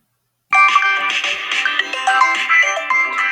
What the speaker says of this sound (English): I got a call from Google.